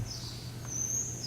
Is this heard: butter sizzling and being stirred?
no